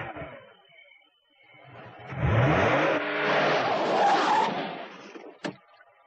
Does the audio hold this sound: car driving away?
yes